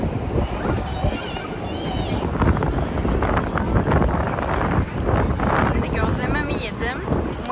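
Constant rumbling wind buffeting the microphone under a bridge in Australia, loud and unbroken throughout, with a voice faintly audible beneath it.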